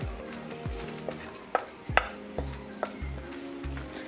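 Mushrooms are stirred into green seasoning in a pot, producing a series of spoon scrapes and soft knocks against the pot over a light sizzle, with no talking.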